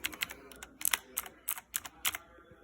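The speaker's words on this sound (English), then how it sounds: "This is me just typing really light." Quiet, light clicking of mechanical keyboard keys with Cherry MX Blue switches, a scattered series of soft taps in irregular rhythm, close up.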